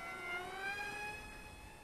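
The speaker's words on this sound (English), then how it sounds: "Definitely my new favorite beginner park jet." A KFPlane F-35 beginner RC park jet flies past, its electric ducted-fan whine holding steady, high-pitched tones that drift slightly in pitch, fairly close and clear with no talk.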